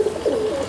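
A close pigeon gives a short, clear coo with a slight rising and wavering tone, alone and fairly loud.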